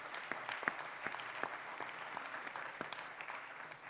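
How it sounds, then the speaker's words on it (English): An audience applauds at the closing ceremony of a global water operators' congress. Individual sharp claps stand out over a steady, moderately distant patter of clapping. "please a very big hand of applause"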